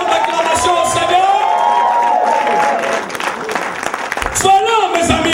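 A church congregation claps and cheers in lively praise, with whoops and shouting voices rising over steady applause that briefly dips before surging again.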